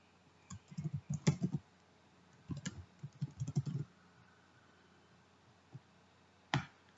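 Keys clack on a computer keyboard as a password is typed, with short bursts of quick taps separated by pauses and a couple of single louder key presses at the end, close and quiet with no talk.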